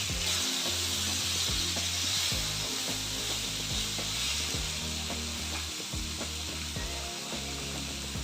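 Chopped bottle gourd lands in a hot oiled pan and sizzles loudly and steadily up close, while a utensil clatters and scrapes the pan in quick, uneven strokes, with no voices.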